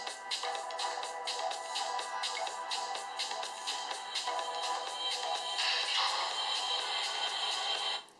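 Music plays at full volume through the small speaker of a Sony Xperia Z1 phone, bright and slightly distorted, continuous for several seconds before cutting off abruptly.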